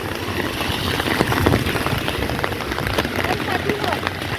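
Steady rain patters on hard surfaces nearby, a dense hiss dotted with sharper individual drops, continuing evenly throughout.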